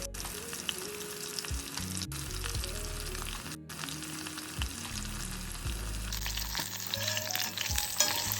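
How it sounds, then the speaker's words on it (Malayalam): Coated squid pieces deep-fry in hot oil in a pan with a steady crackling sizzle, a few scraping stirs and light clinks breaking through, close and alone. "അങ്ങനെ എല്ലാം ഈ രീതിയിൽ വറുത്തെടുക്കാം"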